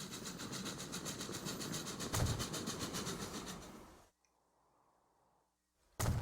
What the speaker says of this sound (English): the train of coffee and beans have departed